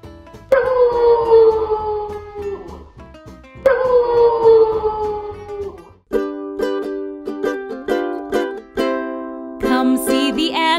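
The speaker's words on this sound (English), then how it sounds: "Wolf." Two long wolf howls with a falling pitch sound loud and clear, followed by bright musical notes and short animal calls.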